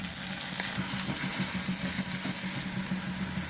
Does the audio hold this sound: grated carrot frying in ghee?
yes